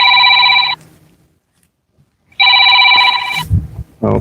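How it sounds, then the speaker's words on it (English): A telephone rings loud and close in two long electronic trill bursts separated by a pause, with a short spoken reaction right after the second ring. "that's my other phone going off"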